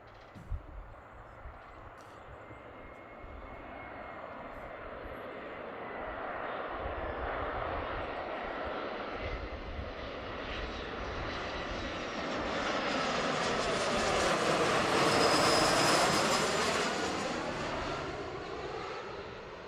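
A large widebody jet on low approach to Seattle airport passes overhead. Its engine roar builds steadily from a distant rumble to a loud, whining peak, then begins to fade.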